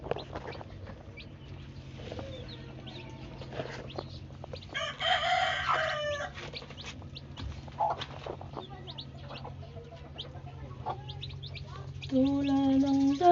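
A hen clucks among her newly hatched chicks in a backyard, with soft repeated clucks, a louder burst of calling and high peeping from the chicks over low background hum.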